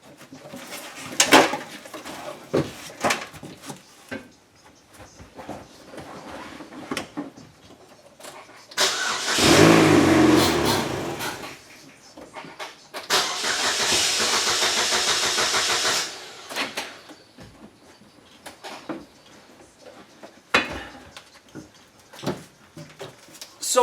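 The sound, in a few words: Chevrolet HHR engine starting up and then dying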